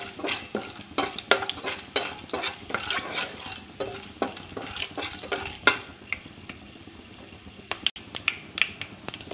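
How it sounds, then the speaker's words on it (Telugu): Two chillies and tempering seeds fry in oil in a kadai while a spoon stirs, giving repeated scraping clinks over a continuous crackling sizzle, close and fairly loud. "2 మిరపకాయలు వేయించుకున్నాం."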